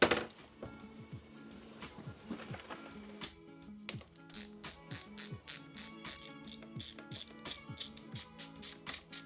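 A torque wrench tightens cover screws on a Honda CBR600RR motorcycle while fitting a GBRacing cover, with bursts of crisp ratchet clicks that come in quick, regular repeated strokes, close up and fairly quiet.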